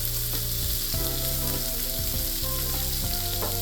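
A ribeye steak frying in a pan over medium to high heat, giving a loud, steady sizzle throughout with a few soft stirring or handling sounds mixed in.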